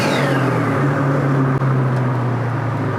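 A Subaru BRAT ute fitted with an EJ20 engine revs loud and close, a steady deep droning rumble holding high with a brief dip partway through, no voices over it.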